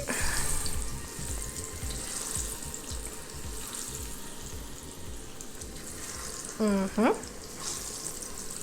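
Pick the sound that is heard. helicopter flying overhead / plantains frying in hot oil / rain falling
plantains frying in hot oil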